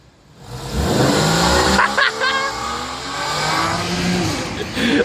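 Sports car revving hard at a car show with burnouts, where a Ferrari 458 and Nissan R35 GT-R are present; a loud, sustained engine roar with rising revs, crowd voices and shouting mixed throughout.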